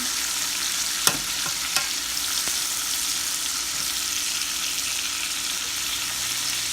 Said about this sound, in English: my sausage and my shrimp been sauteing for 3 minutes